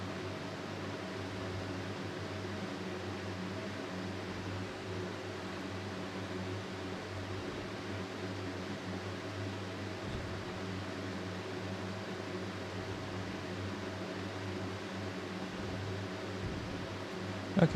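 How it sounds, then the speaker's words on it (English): An electric fan runs at its lowest setting in a hot room, a loud, steady whooshing hum that holds without a break from start to finish, with no talk. "This fan is so loud. And it's at level 1, by the way."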